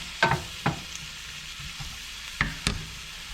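Food sizzles quietly in a pan on a lowered heat before fish goes in. A few sharp utensil clicks and scrapes rise above the soft frying hiss, and no one speaks.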